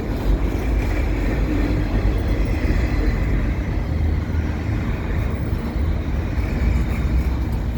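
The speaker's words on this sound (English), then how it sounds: "a train coming underneath the bridge" A CN double-stack freight train rolls beneath a bridge on a windy winter day, a continuous loud, broad rumble holding steady throughout with no voices.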